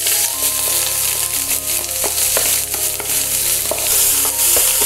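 Onions sizzle loudly in hot oil with popped mustard seeds and curry leaves. The frying is a steady, close crackle with occasional clicks of stirring, and no voices are heard.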